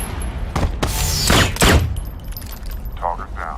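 A few sharp gunshots ring out in a Tom Clancy Ghost Recon game cinematic, close loud cracks clustered in the first two seconds with faint mechanical clicks afterward, a voice heard nearby.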